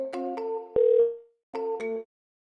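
An automated dial queue on a VoIP phone plan dials out, producing bright electronic tones in a short stepping pattern, a brief pause, then another pair of tones, close and clear with no talk.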